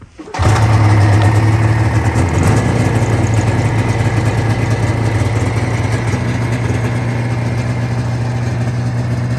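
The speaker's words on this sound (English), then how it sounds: "I'll start it up. It's not nearly as loud as I almost want it to be, but it sounds good." A 1985 Yamaha XL-V 540 motorcycle built for racing starts up and settles into a steady, loud, rumbling idle set a little high, close by with no talking.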